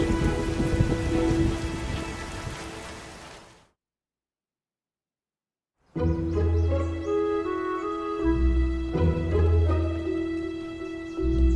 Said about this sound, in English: Looks like we got a bit of rain, huh?